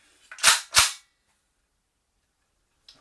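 An SRC AKS74u gas blowback airsoft rifle fires on semi-auto: two loud, sharp, close pops in quick succession, then silence and a third brief report at the very end.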